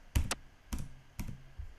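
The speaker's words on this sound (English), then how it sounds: "there was some game that I recorded the claps, and they sound like this." Filtered handclaps recorded on an iPhone at a sports game: four soft, muffled clap bursts spaced roughly half a second apart, quiet and dull with a thin, clicky character.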